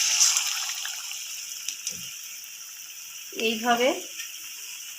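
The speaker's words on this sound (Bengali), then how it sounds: "এবার এই মাছগুলো একটা একটা করে দেবো আর একটু ভেজে নেব, ফ্রাই করে নেব।" Battered lotia fish pieces frying in hot white oil in a kadai as pakoras, giving a steady, close sizzling hiss throughout, with a few faint clinks and a short spoken phrase near the end.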